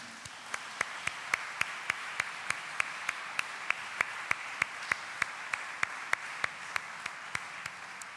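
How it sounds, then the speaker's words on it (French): Sparse, evenly spaced handclaps ring out in a church after a concert, a few distinct claps repeating steadily at a slow rhythm over a quiet, reverberant background with no talking. "On l'applaudit très fort."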